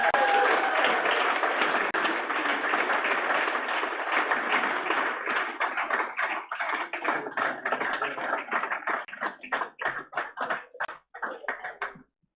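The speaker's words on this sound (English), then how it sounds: "A big round of applause for our winner" Applause at a fintech awards ceremony as a winner is announced: a full burst of dense clapping that gradually thins into scattered individual claps before fading out.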